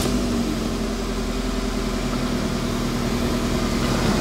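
A car engine idles steadily up close, producing a continuous low, even hum and rumble with no breaks or revving.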